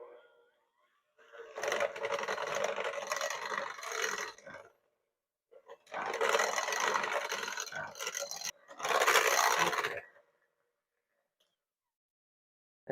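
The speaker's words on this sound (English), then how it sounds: "who wants to hear that mixer?" An electric hand mixer whirs through banana bread batter in three bursts of a few seconds each, a harsh buzzing grind with pauses of silence between, close and fairly loud, with no talking.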